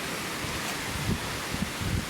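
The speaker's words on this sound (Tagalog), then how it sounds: "Lakas pa ng hangin." Steady broadband rush of strong wind buffeting the microphone, with a few low thumps and gusts, no voices.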